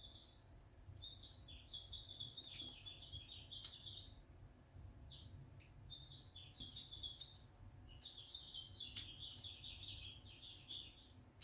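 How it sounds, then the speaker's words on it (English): A bird clock plays a recorded bird call: repeated bright, chattering chirp phrases, fairly faint and steady over a low background hum. "That's the funniest bird on the bird clock."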